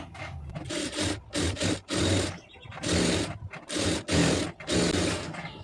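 A sewing machine stitches the lining of a blouse in repeated close, loud runs of rapid mechanical whirring, each a second or so long, separated by short pauses as the fabric is turned.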